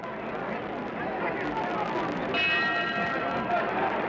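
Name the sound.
boxing ring bell ending a round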